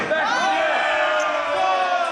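A wrestling crowd shouts and roars loudly and continuously, a dense wall of many voices yelling together in an indoor arena.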